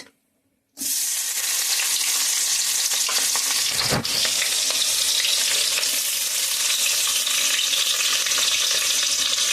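Chopped onion hits hot oil after a brief silence, bursting into a loud, continuous sizzle that holds steady with a single sharper clatter of stirring partway through, no one speaking.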